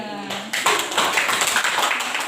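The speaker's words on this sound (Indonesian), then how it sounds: "Oke, berarti tepuk tangan untuk Raffi dan juga anggota kelompok 3." A classroom group bursts into applause, many hands clapping together steadily after a brief voice at the start.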